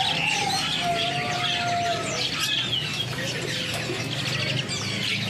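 An Asian pied starling sings at a bird kiosk, giving clear whistled notes, sliding calls and chatter amid other birds chirping around it, continuous and fairly close.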